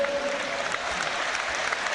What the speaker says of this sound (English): he's getting a good round of applause